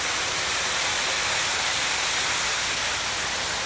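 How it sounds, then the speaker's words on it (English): A steady, loud rush of falling water fills the air with broad, unbroken hiss, no other sounds standing out. "look at this waterfall."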